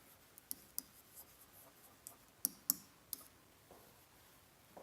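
A pen writing on paper during a maths lesson on translations, with faint scratching strokes and a series of soft, irregular taps and clicks, close and quiet, with no talking.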